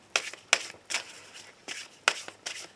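A deck of tarot cards is shuffled by hand before a daily reading, a series of about six quick riffling bursts at an uneven rhythm, close and fairly quiet, with no one talking.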